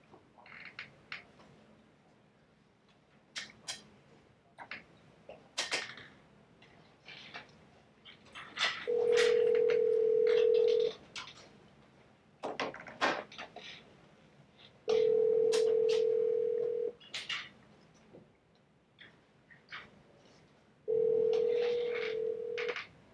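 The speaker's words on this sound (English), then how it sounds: "We're about to make the first phone call." An outgoing phone call rings back on the line with three long, steady tone bursts spaced about six seconds apart. Faint clicks and room noise fill the gaps between the tones.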